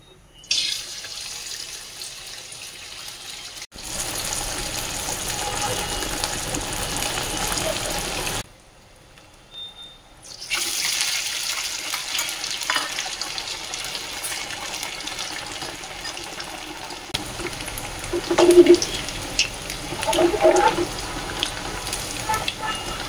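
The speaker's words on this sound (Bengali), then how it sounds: "তো দিয়ে এখন তেলে ভেজে নেব" A wheat-flour snack fries in oil with a continuous hiss and sizzle. The sound breaks off twice into near silence, then resumes with faint clinks toward the end.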